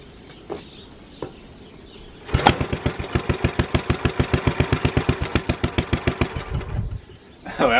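A Planet Jr. HT tractor engine fitted with a Briggs muffler fires up after quiet background, then settles into a loud, close, rapid putting idle of evenly spaced pulses before cutting back near the end.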